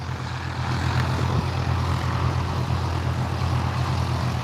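A light aircraft lands at Barton Aerodrome: a steady, fairly loud engine drone with a low hum that holds evenly throughout, with no talk.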